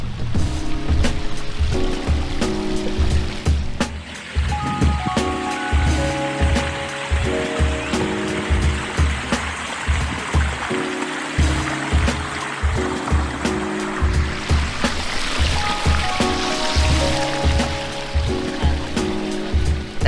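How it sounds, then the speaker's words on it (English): A backyard stream flows over stones and stepping stones down a natural slope, a steady loud rushing and trickling of water that continues throughout with no voices. "Of course, he wanted that sound of water."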